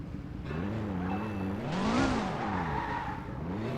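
A sports car engine in the video game Car Simulator 2 roars as it pulls away from a standstill, its pitch climbing through the gears with a tire screech, loud and continuous, with synthetic game-like quality.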